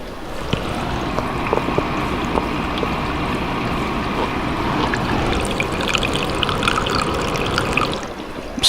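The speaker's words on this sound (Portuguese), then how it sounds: "a água caindo no reservatório" Water falls continuously into the reservoir of a Britânia BCL01F air cooler, a steady close trickling and splashing wash that holds at an even level throughout, with no talking.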